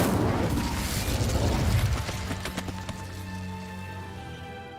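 A fire spell cast in Hogwarts Legacy bursts with a loud, crackling whoosh and several popping impacts, then decays into a ringing, shimmering tail.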